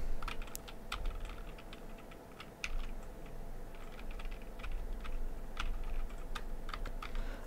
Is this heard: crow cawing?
no